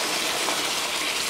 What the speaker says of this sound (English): I want to pour a couple of cups